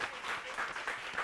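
A crowd applauds on stage at a live show in welcome for performer Mbalou Kanté, a dense, continuous wash of many hands clapping, moderately distant and steady.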